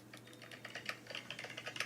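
Fingers type quickly on a computer keyboard fitted with retro keycaps, producing a quiet, even patter of light clacks at close range, with no talking.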